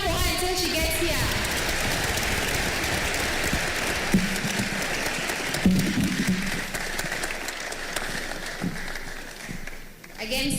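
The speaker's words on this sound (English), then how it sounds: "so let's clap for her until she gets here" A crowd at an outdoor public event in Kenya claps continuously, a dense, even patter of many hands heard close up, with voices and cheering mixed in.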